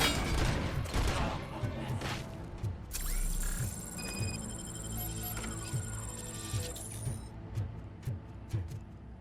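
Gunfire rattles in the Robocop Rogue City video game, repeated sharp shots and bursts at a steady rhythm over a droning, humming game soundscape, with brief talking over the action.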